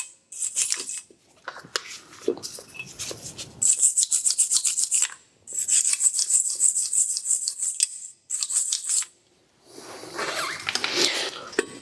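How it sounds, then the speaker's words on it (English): A wire brush scrubs the brake pad guides on a 2017 Ford Transit Custom van in quick, harsh back-and-forth bursts separated by short pauses, close and loud. "We need to grab wire brush and clean the guides for the pads."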